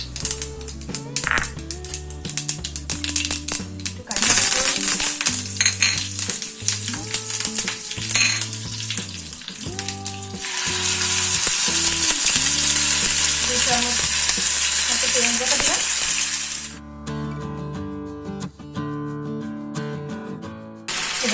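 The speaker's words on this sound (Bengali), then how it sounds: "সর্ষের তেল দিচ্ছি, শুকনো লঙ্কা আর একটু সর্ষে ফোড়ন দিচ্ছি" Dry chillies and mustard seeds fry in hot mustard oil with a loud, continuous, close sizzle and crackle. Stirring and scraping clatter over it, and the frying eases slightly near the end.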